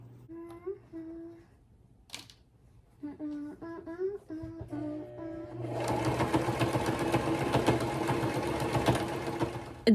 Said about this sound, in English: So we're switching to straight stitch and we're going.